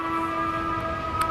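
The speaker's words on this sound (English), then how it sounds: "sirens." A steady, droning siren tone with layered pitches carries across a residential yard, sounding distant but distinct and holding level with no voices over it.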